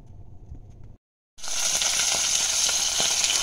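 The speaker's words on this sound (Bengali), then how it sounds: "এই যে মাছ ভাজা বসায় দিছি" Fish frying in a pan, a loud steady sizzle that bursts in after a brief silence, with faint crackles throughout.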